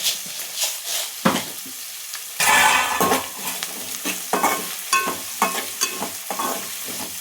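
Chana dal and urad dal frying in hot oil, a continuous close sizzle with a louder hissing burst as they go in, then repeated spoon scrapes and clinks against the pan, no one talking.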